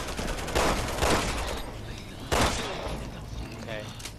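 Enemy gunfire in a Resident Evil 6 shootout in China, a few loud bursts of rapid shots amid busy game noise, with some talking in the background.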